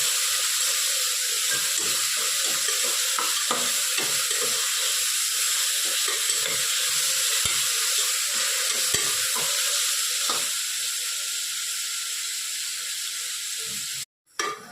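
Mint and coriander leaves sautéing in a pan, steady sizzling and frying with stirring scrapes, continuous and close, ending abruptly near the finish.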